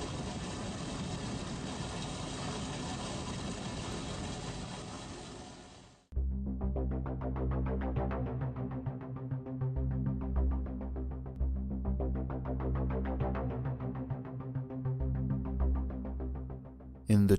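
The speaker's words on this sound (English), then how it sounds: "a part of the surplus sludge is conveyed by the sludge pump to the fermenter's buffer" Machinery at a wastewater treatment plant running the sludge pump: a broad hiss cuts off after six seconds, then a steady throbbing, humming engine-like drone continues at moderate level.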